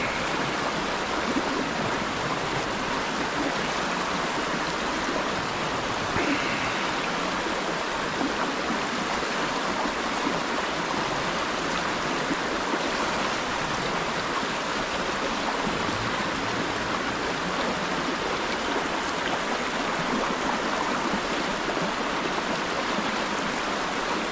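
A river flows steadily and close by, a broad, constant rush of running water with no break across the whole stretch and no voices over it.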